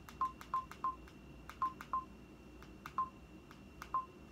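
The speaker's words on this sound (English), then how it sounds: "When I turn around, I can hear the beeps from either side." Short electronic beeps from Bose SoundWear wearable speaker headphones sound in small clusters at an even pitch, quiet and clear over faint background hiss.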